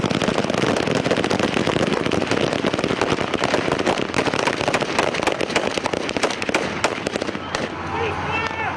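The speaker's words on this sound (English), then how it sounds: "the police opened fire with automatic weapons" Police open fire with automatic weapons on charging strikers, a dense, continuous crackle of rapid gunshots filling the whole stretch loudly, with a confused crowd roar underneath and the firing thinning slightly near the end.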